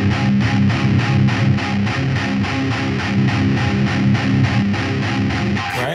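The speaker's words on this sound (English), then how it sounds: "If I palm mute, you can probably hear it." Heavy, distorted electric guitar through a Line 6 Pod HD modeler chugs along with tight palm-muted strokes in a fast, even metal rhythm, loud and close, ending with a sharp burst.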